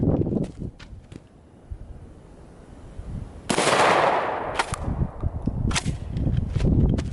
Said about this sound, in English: Let's shoot it with no choke to see the comparison between the two as baseline.